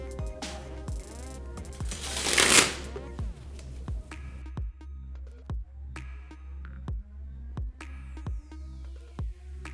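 Playing cards are riffled and dribbled in an Anaconda cardistry move: one dense burst of fluttering card noise, then a string of sharp, evenly spaced clicks and taps as the cards drop, close and clear with no talking.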